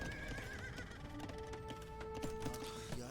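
A horse whinnies loudly and clearly in Age of Empires II, its neigh rising over steady clip-clop hooves and dense battle noise through the whole moment.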